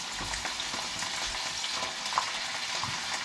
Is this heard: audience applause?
no